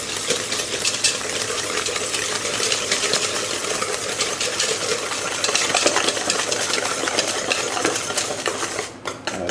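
Eggs and sugar being whisked until pale in a bowl for a quick strawberry tart: rapid, continuous metallic scraping and clinking of the whisk against the bowl, steady and close throughout, with no talk.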